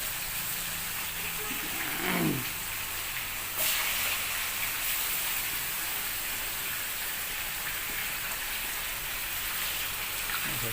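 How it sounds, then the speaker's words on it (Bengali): Chicken pieces frying in hot oil in a pan, giving a steady, dense sizzle that runs throughout at close range, with a brief louder crackle early on and no voices. "আমাদের শুরু হয়ে গেছে চিকেন ফ্রাই।"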